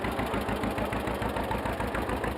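Tractor engine idling at the Heritage Days festival at LongLeaf, a fairly faint, steady, rhythmic chugging from an engine running at rest.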